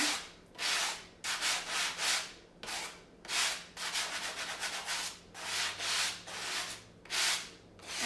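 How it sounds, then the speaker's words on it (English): A sanding sponge rubs in rhythmic back-and-forth strokes, lightly distressing the edges of a decoupage piece, close and soft with even swishing passes and no talk. "You're just going to lightly go in with a sanding sponge"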